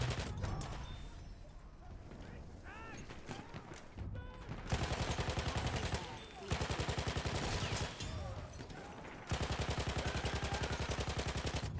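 Battlefield 1 video game gunfire: dense rapid automatic bursts crackling in several long loud stretches, broken by brief gaps, with some voice chatter underneath between the volleys.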